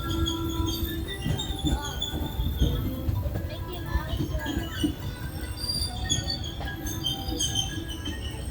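The Disneyland Railroad train rolls along its Grand Circle Tour with wheels squealing, a steady low rumble under shrill, high squeals that come and go throughout.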